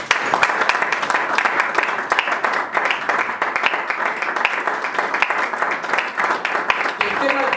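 A church congregation gives sustained, dense applause and clapping in praise, loud and continuous throughout with voices mixed in among the crowd.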